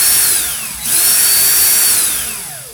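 A power drill twisting wire whirs steadily, its pitch dipping briefly before spinning back up, then slowly winding down toward the end.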